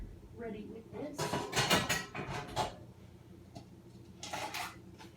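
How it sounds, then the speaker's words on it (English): Metal clatter and scraping as an 8-inch springform baking pan is pulled from a kitchen cupboard, several close, bright clanks in irregular bursts, then a brief rattle after a pause. "While I get my pan out, my baking pan, I should have been ready with this."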